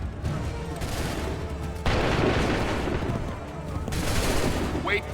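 A volley of gunfire rings out on command in a rolling, dense burst of rattling shots and booms, surging in two waves with a brief lull between.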